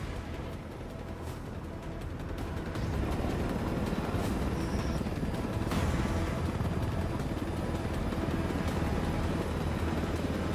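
A helicopter flies in the video game Ghost Recon Wildlands, a steady loud rotor-and-engine roar that holds constant and swells slightly partway through, with no speech over it.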